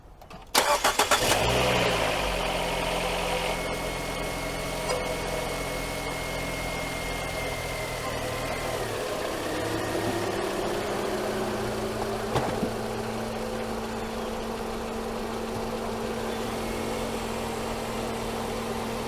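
A Nissan Sentra engine cranks and catches with a loud burst, then settles into a steady, close idle that runs on alone with a faint whine over the hum.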